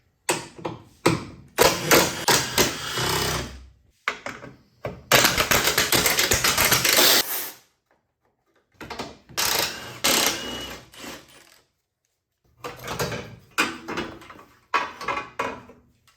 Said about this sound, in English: So I'm going to start with taking this bracket off with the hood latches.